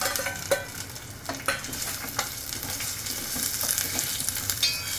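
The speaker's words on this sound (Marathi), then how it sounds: "कांदा व्यवस्थित परतून घ्यायचा, त्याचा रंग बदलेपर्यंत." Finely chopped onion sizzling in hot oil with curry leaves and garlic while being stirred, a steady close crackle with occasional scraping stir strokes throughout.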